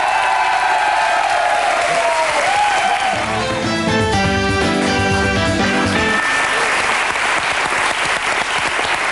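A French television studio audience claps and cheers loudly and continuously for two arriving guests, a band of tonal music rising in the middle of the ovation before fading back into the crowd noise.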